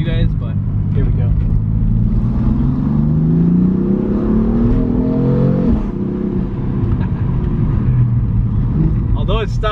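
A car in sport mode accelerates hard with the windows down, its engine note rising in a loud, continuous droning climb that dips and builds again, heard from inside the car without talk.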